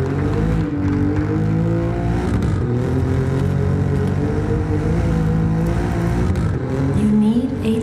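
A 2017 Alfa Romeo Giulia engine revs loudly and steadily under a dense layer of trailer music, rising in pitch at the end.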